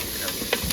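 Vegetables for sakhda karela shaak tipped into a hot cooking pot, giving a short, steady hiss of sizzling with a few brief bursts, fairly close and alone.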